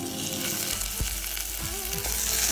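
Potatoes, onions and greens fry in a pan for a quinoa kichidi, a dense continuous sizzle with crackling spatter and a few scraping stirs, close and steady with no voices.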